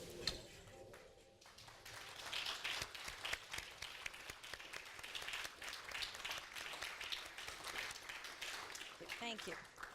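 A large conference audience at a London summit on global competitiveness applauds, a steady wash of many distant hands clapping for several seconds, fairly faint, with a brief voice near the end.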